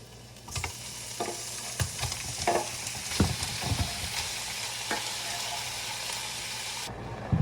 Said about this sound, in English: I'm trying out a new like stir fry type of thing